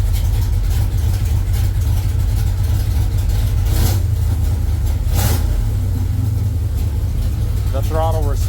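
A car engine fitted with a self-learning plug-and-play Fast EFI fuel injection system runs steadily and loudly, a constant low engine drone with a few throttle blips and a brief rising rev near the end.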